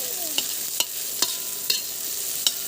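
Cumin, dried chilies and green garlic frying in mustard oil: a constant close sizzle punctuated by a spoon scraping the pan in regular strokes about every half second, with no speech.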